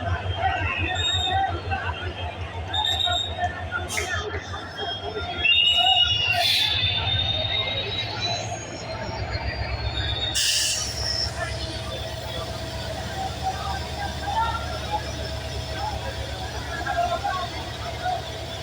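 A moving passenger train in Bangladesh rumbles steadily throughout with a low continuous roar and brief metallic squeals, while crowd chatter and voices carry over the top.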